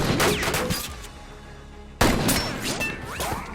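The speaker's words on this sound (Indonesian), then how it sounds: "si abah yang posisinya di atas pun langsung menembak ke arah kelompok Charlie" Rapid gunfire crackles through a dense, busy film soundtrack mix, with a sudden loud blast near the middle followed by more shots.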